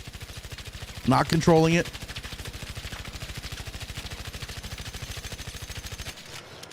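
Rapid automatic gunfire from a weapon fitted with a muzzle brake in Arc Raiders, a fast, even stream of close, loud shots running for several seconds before stopping, with a brief burst of talk partway through.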